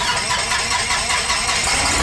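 A small single-engine propeller airplane starts up, its engine roaring loud and continuous close by with a dense, steady rumble and no pauses.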